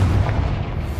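A single deep, booming fire-spell explosion from Hogwarts Legacy, loud and close, with a heavy low-end rumble holding throughout.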